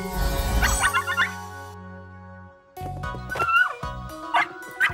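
Small cartoon puppies yip and whimper in high, squeaky bursts, several short calls over a droning musical background.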